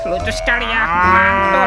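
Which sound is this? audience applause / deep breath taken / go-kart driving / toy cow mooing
toy cow mooing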